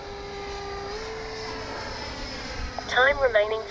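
A Kavan Skyfox L-39 RC jet flies on its maiden flight with flaps and gear up, giving a steady whining turbine drone that rises in loudness near the end as it passes closer.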